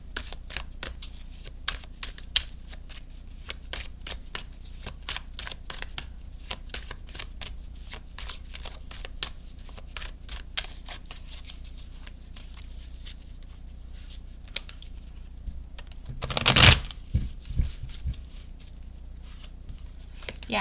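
Oracle and tarot cards being shuffled, a long run of soft rapid riffling and patter, with a louder burst of handling near the end.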